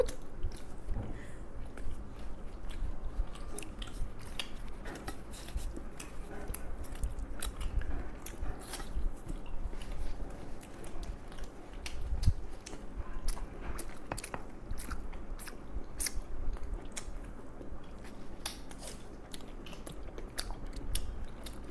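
Rumali roti with spicy chicken curry and onion salad being eaten close to the mic, with steady soft bites and chewing, crunches and small wet sounds running throughout, with no talk.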